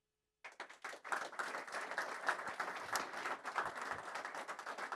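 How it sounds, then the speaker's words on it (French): Applause from an audience at a winter-season launch evening at a ski resort, starting abruptly after a short silence and continuing as steady, dense clapping throughout, fairly distant and moderate in level. "eux vous applaudissent"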